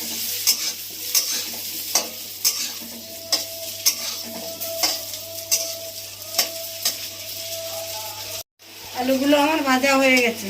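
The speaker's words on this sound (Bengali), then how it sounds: "আলু কাটা ভেজে নিচ্ছি।" Potato pieces frying in a pan, steady loud sizzling with regular clacks of a spatula stirring, a brief cut near the end followed by louder bubbling.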